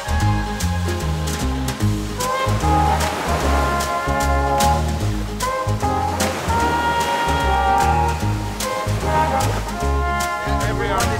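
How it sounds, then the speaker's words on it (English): Huge waves crashing and strong wind roaring on open water in Siberia, a loud, constant wash of surf and gusts with faint voices buried beneath it. "Huge waves and huge wind"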